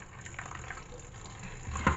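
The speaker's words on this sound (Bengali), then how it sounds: "এই ঝাঁচড়াটা নেবার ফলে এখান দিয়ে জলটাও বেরিয়ে যাচ্ছে।" Water drains from boiled chow mein noodles through a strainer in a home kitchen, a soft, steady trickle and rush that swells slightly near the end, fairly quiet and without voices.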